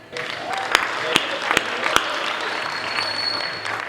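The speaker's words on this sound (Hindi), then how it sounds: "एक बार तालियां बजा दीजिए" Audience at a Hindi poetry recital in Hathras applauds, a steady wash of clapping with a few sharper claps standing out, fairly close and sustained throughout.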